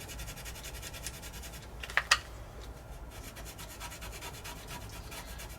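A fiberglass pen scrubs the contact points on an Amiga 2000 board, giving a soft, steady close-up rubbing and scratching with two brief sharper scrapes near the middle.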